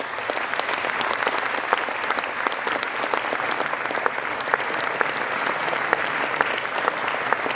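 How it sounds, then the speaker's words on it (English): An audience gives big, steady applause at a presentation by Steve Wozniak on the history of Apple, a dense wash of clapping hands that holds evenly throughout with no talk over it. "Big applause."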